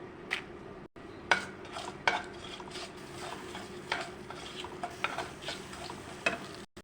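Five-spice tempering with bay leaf and dried chilli crackling in hot oil, a soft steady sizzle punctuated by sharp spoon clinks and stirring taps against the pan.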